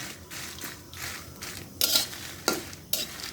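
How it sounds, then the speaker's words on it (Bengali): Dried red chillies dry-roasted in a pan with no oil make bursts of scraping and rattling as they are stirred, several distinct sweeps over a few seconds against a quiet background. "শুকনা মরিচ শুকনা তেলে নিব, তেল ছাড়া, শুকনা খোলায়"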